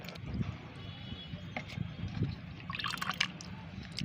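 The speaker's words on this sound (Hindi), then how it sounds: "अब इसे हमें छान लेना है।" Fermented homemade liquid plant fertilizer being strained, with steady pouring and trickling of liquid and occasional drips, fairly close and continuous, no voices.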